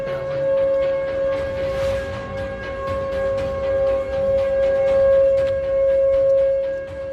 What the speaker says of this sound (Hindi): ये सायरन टेक्सास के डल्लास शहर में रात को ऐसे ही गूंजा